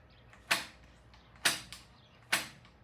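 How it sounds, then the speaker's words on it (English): Throttle on a Triumph T140V carburetor snapped three times, each a sharp close mechanical click and creak at roughly one-second intervals over a quiet background. "Hold your finger here and snap the throttle."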